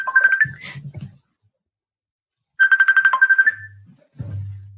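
A new mobile phone's ringtone plays in two bursts of bright repeating melodic tones separated by a pause, with low buzzing vibration beneath, fairly loud and close with no talking.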